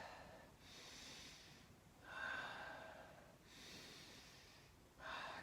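Slow, deep breaths during a stretching session come in long, airy cycles, three or four inhales and exhales close to the mic, soft and unhurried with no talking.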